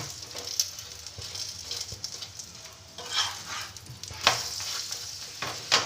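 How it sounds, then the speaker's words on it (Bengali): A radish paratha shallow-fries in a little white oil on a pan, giving a soft, continuous sizzle punctuated by occasional clinks and scrapes of a spatula, with a few louder bursts as it is pressed. "এবার আমি তেলে ভেজে নেব অল্প অল্প করে আমি তেল দিয়ে দিচ্ছি"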